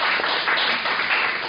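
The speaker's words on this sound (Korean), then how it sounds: "박수 한번 주세요." Applause from a church congregation, dense, even clapping that holds at one level the whole time, with no voices over it.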